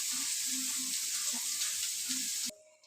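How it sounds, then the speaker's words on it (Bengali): Sliced onions sizzling steadily in hot oil as they fry into crisp birista for mutton biryani, a close, dense hiss that cuts off abruptly near the end, leaving near silence. "পেঁয়াজ বেরেস্তা ভাজতে একটু সময় লাগবে"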